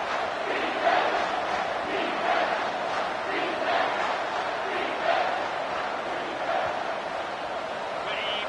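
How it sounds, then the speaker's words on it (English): Football stadium crowd cheering on the defense during a red-zone stand, a dense, sustained roar of many voices with slight swells, heard as a steady wash of distant noise. "The crowd getting behind this defense as they try to get a stop in the red zone."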